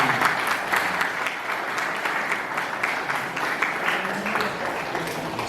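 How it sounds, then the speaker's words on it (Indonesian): An audience claps warmly on stage, a steady dense patter of many hands lasting several seconds at moderate distance, with faint crowd murmur beneath. "Tepuk tangan untuk Carnegie."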